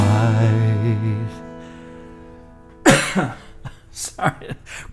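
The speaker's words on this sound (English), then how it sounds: "coughing while you sing is never a good thing" A short burst of coughing and throat clearing breaks into a sung passage, the sustained vocal note cutting off before the harsh, close coughs.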